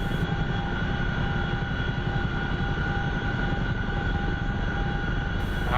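A helicopter in flight in the DCS World combat game sends out a steady, loud droning rotor and engine hum, unbroken and even throughout, with no voices heard.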